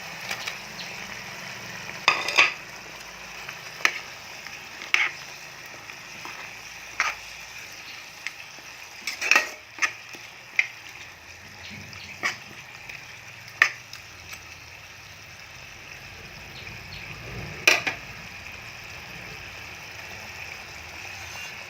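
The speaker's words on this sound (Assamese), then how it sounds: "মছলাখিনি ভালদৰে উতলিছে, ইয়াত এতিয়া মাংসখিনি দি দিম।" Chicken meat drops into a pot of boiling spices for a home-cooked chicken curry, setting off a steady low sizzle broken by irregular sharp crackles and pops, with no talking.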